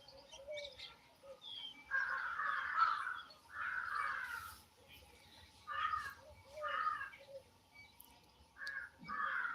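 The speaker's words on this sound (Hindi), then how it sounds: "यहाँ पे पक्षियों की आवाज ज्यादा सुनाई देती है।" Crows caw from a rooftop in a series of harsh, repeated calls, some overlapping, with a few fainter bird chirps mixed in against a quiet outdoor background.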